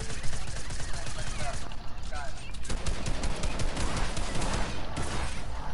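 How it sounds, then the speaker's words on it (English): Shotgun and other gunfire in a Fortnite match, sharp repeated blasts over a dense, continuous layer of game noise, with players talking throughout. "Hit him with your shotgun."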